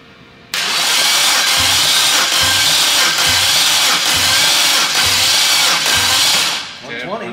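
A BMW N54 engine cranks on the starter during a compression test, giving a loud, steady whirring grind with a regular pulsing rhythm for about six seconds before cutting off abruptly.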